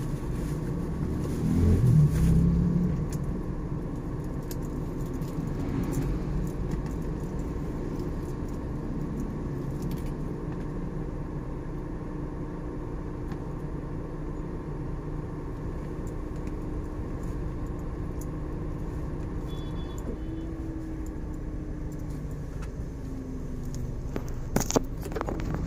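Slow-moving road traffic in a jam, heard as a steady low rumble of idling and crawling engines around the listener, with a faint tonal hum and a few brief clicks and knocks near the end.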